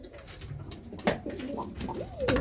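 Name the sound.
pigeon cooing, roller pigeon breeding loft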